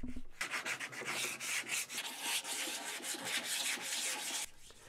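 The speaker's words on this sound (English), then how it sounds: "which was sanding." Steady close-up hand sanding on the weathered wood of a rotten tree stump, a continuous dry rasping scrape with quick repeated strokes, alone with no voices, stopping just before the end.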